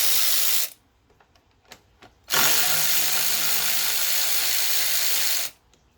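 A power tool removes the nuts from the radiator fan unit of a 2005 Lexus RX330, with a loud whirring burst, a short pause with a few clicks, then a longer sustained run that stops abruptly.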